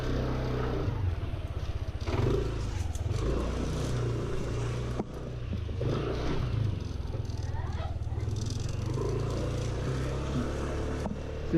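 A Yamaha Nmax scooter rides down a laneway in Bohol, heard from a helmet camera: a steady engine drone with heavy wind buffeting, loud and close throughout, with some rattles and a brief dip midway.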